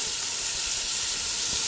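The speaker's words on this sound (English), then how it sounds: "I can put the onion in." Onion going into a camp oven beef stir fry gives a steady, dense hiss of frying, loud and close, with no break and no talk.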